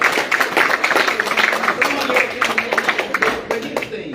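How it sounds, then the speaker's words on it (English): Audience applause at a Marion County Democratic meeting for a governor candidate, a steady wash of clapping hands filling the room for several seconds with some talk mixed in. "Now, you can clap on that"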